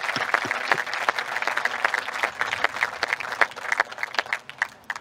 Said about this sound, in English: we'd like to give a big round of applause there